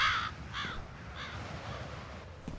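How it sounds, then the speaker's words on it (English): A crow caws as a jump scare in the video game F.E.A.R., three harsh calls in quick succession near the start, then quiet ambience. "Bloody jump scare crow."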